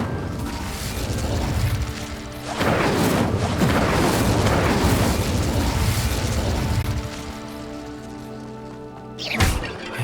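Fire spell cast in Hogwarts Legacy, a loud sustained crackling whoosh of flame with tonal magical hum, swelling and holding for several seconds before fading, followed by a short sharp burst near the end.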